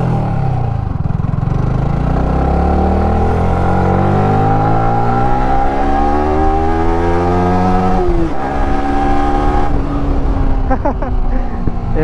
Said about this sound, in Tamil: எக்ஸாஸ்ட் நோட் கேட்டிங்களா எப்படி இருக்குன்ட்டு